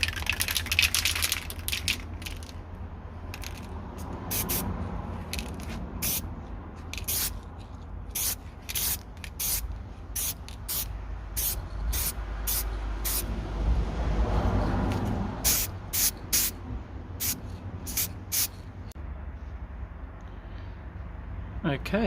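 Aerosol spray paint applied as a second, slightly thicker coat to a peeling BMW E60 5 Series gear shifter, heard as repeated short hissing bursts of varying length, close by and fairly steady.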